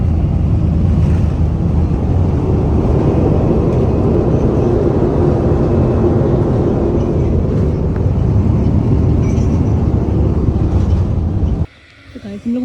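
Roar of an empty passenger airplane landing at Begumpet Airport, a loud broadband rush of engine and wind noise heard from inside the cabin, steady for most of the time, then dropping off abruptly near the end.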